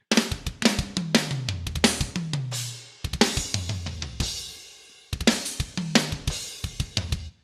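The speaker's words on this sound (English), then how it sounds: "So we add all the samples in, and it sounds like this." A drum mix layered with added drum samples from a gospel producers' sample pack plays back loud and close, with weighty kicks, sharp snares and bright cymbals in a steady groove and descending low fills.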